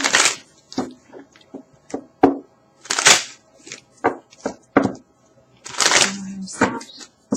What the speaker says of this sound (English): Let me shuffle some cards here.